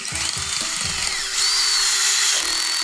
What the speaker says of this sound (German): Aber der Akkuschrauber alleine hatte nicht genug Leistung, das zu schaffen.